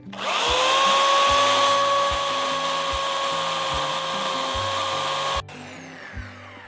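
Power saw cutting into a storm-damaged linden tree, a steady loud whine holding for about five seconds before stopping abruptly, leaving quieter background noise.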